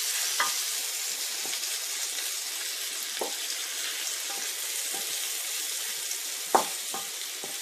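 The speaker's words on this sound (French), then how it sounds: "on va mélanger et laisser bien fondre les tomates pour qu'on obtienne une sauce" Tomatoes soften into a sauce in hot oil for an Indian eggplant dish, giving a steady close sizzle broken by a few soft clinks and scrapes of stirring.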